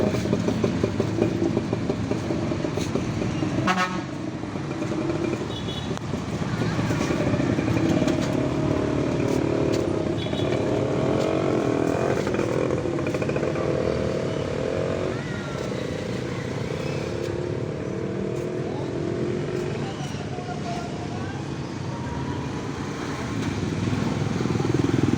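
A motorcycle engine runs near a roadside tire-repair shop on a city street, a moderate, uneven drone with a sharp clank early on and passing traffic noise throughout.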